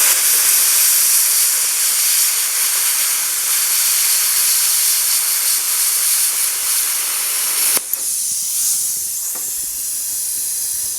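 A Bestarc BTC5000DP Gen9 budget plasma cutter hisses steadily and loudly as it slices through metal at reduced amperage, with a brief break near the end before the hiss resumes.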